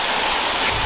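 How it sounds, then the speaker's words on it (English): A small waterfall pours in a steady, dense rush of falling water, heard close and without any voices for a brief moment. "It's not a massive waterfall or anything, but it is pretty cool."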